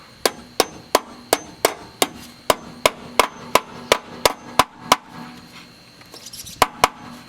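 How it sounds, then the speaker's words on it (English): A light hammer taps a metal brake line clip on a Jeep Cherokee XJ in a steady series of sharp, evenly spaced strikes, about two per second, with a brief pause before two final taps. "you can actually just take a lightweight hammer and be able to tap that in"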